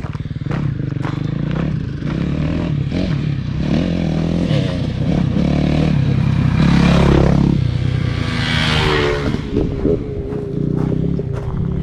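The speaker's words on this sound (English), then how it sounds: "two motorbikes is something I'm not used to seeing on the trails." Two motorbikes riding along a hiking trail, their engines revving and rising as they draw close, with rattling and scraping from the bikes over the rough ground and passes that build louder then fade.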